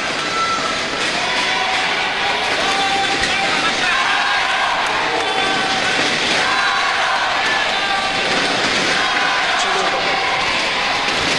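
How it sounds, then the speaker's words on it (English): A large stadium crowd at a badminton world championship match at Gachibowli Stadium roars steadily in encouragement for Korea, a dense, continuous wall of cheering and noise from start to finish. "the sympathetic crowd here in the Gachibowli Stadium giving Korea huge encouragement"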